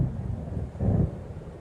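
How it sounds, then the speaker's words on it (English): Low rumble of thunder from an approaching storm in the video game Alan Wake, a distant swelling roll that peaks briefly near the middle over a steady wind-like background, with no voices. "It seems there's a storm coming."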